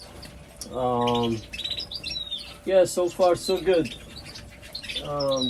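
Pet birds in an indoor aviary, including red siskins, chirp and tweet in bright repeated bursts close by, with a person talking briefly between the calls.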